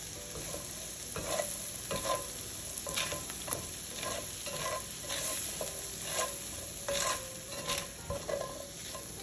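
Onion fries in a pan with a steady soft sizzle, and a utensil stirs and scrapes it in repeated taps and scratches, close by with no talk.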